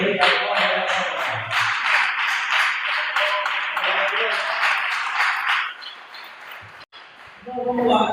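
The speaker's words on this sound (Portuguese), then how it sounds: "as palmas que glorifica a Ele" A church congregation at a Pentecostal service claps together in steady, dense applause that runs for several seconds, then fades to brief stray claps.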